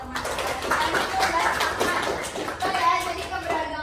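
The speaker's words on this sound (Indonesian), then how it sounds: "tepuk tangan buat teman-teman" Classmates in a classroom give a short round of applause, steady moderate clapping from a small group with children's voices mixed in.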